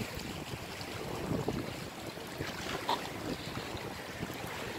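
A boat out on open water, with a steady wash of waves and gusting wind buffeting the microphone, continuous and fairly close, with no talking.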